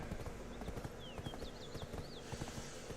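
Hooves of a ridden horse in Black Desert Online clip-clop in a steady walking rhythm, a quiet run of soft hollow knocks in a game soundtrack, with a few faint whistling tones above them.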